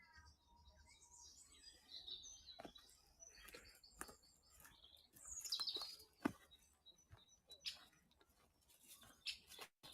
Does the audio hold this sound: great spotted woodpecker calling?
yes